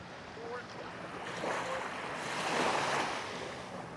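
Ocean surf at Palm Beach, Aruba washes steadily onto the shore, swelling and receding in broad, noisy swells with some wind rush, heard fairly close with no talking.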